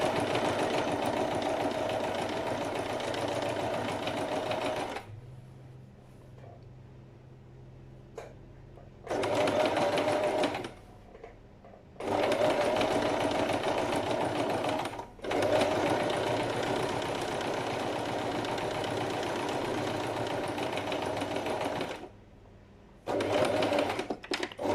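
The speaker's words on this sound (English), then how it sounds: "I'm going to start at the edge there, so remember to reverse stitch, and now we start sewing." Sewing machine topstitching a denim seam: a steady, close mechanical whir running in long stretches, broken by several short pauses where the needle stops, with no talk over it.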